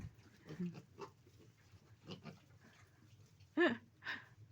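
Pigs grunting on a small farm, with a few short low grunts spread across the clip and one louder snort near the end, mixed with other faint animal and background noise.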